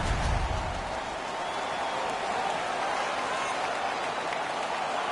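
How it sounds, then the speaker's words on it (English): A hockey crowd at the Stanley Cup finals cheers after a fight: a dense, loud, continuous roar of many voices and clapping that holds steady from start to finish. "The crowd is ecstatic."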